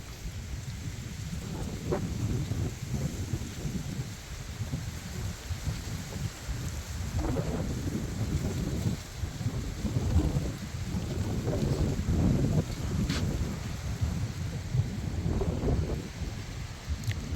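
A very strong windstorm roars and buffets the microphone in a rural Thai garden, a loud, steady rush with gusting surges that swell and ease throughout, no speech over it.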